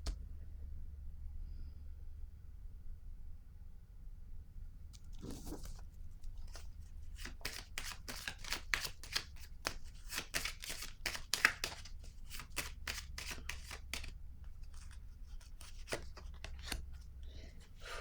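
Tarot cards being handled and laid down on a surface, with quiet soft taps, flicks and rustles in a quick irregular run after a few seconds of near-silence, close and faint.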